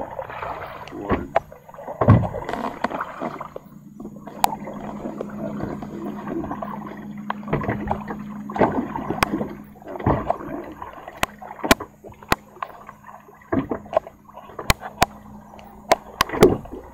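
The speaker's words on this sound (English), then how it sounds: "Okay, so I'm going to paddle back" Kayak paddling on water near Blue Back Park in Nanoose Bay, BC: repeated paddle strokes and soft splashes at a steady pace, with gurgling water, a low hum and occasional sharp clicks.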